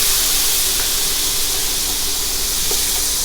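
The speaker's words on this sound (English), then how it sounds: "just a little bit of stock to get all that goodness right up off the bottom of the pan" Stock poured into a hot pan while cooking rasta pasta, giving a loud, steady steaming hiss that holds without a break, close up and with no voices over it.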